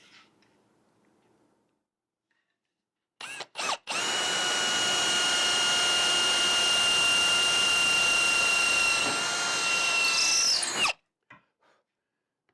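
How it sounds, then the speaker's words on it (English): Power drill boring through a cherry wood loom's mortise and into the table, one loud continuous high whine lasting about seven seconds, with short bursts starting and stopping before it and quiet near-silence around. "So I'm going to drill through here across the mortise and into the table."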